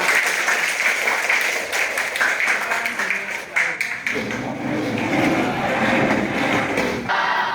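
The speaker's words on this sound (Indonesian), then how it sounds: "Tepuk tangan buat kita." A classroom group applauds together, a clatter of hand claps and scattered taps with voices mixed in, loud and close throughout.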